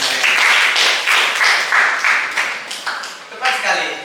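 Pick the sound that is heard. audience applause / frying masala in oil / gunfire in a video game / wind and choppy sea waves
audience applause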